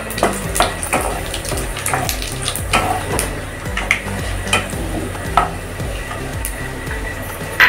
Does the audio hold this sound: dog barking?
no